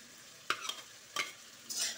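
Shrimp and spices are stirred in a frying pan, with a few close scraping strokes against a quiet sizzle.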